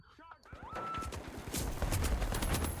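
Turret gunfire in a video game, a dense rattling stream of rapid shots that builds and continues steadily through the second half, mixed with game effects and voices talking over it.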